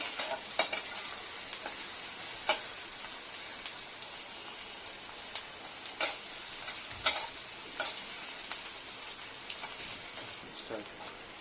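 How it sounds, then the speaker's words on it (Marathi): Curry leaves frying in a pan for matki usal produce a faint, crackly sizzle with scattered pops and light stirring clicks throughout. "हा कढीपत्ता चांगलं परतून घ्यायचंय, गोल्डन रंग येईपर्यंत।"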